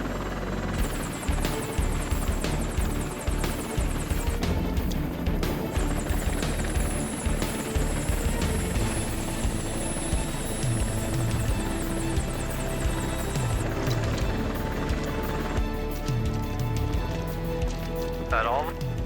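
A steady, throbbing helicopter rotor drone dominates throughout, loud and close, with voices mixed in underneath.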